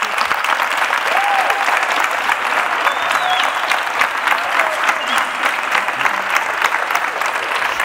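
Steady, dense audience applause for volunteers at the T3chFest 2017 closing and awards ceremony, even in level throughout, with faint voices and whistles mixed in.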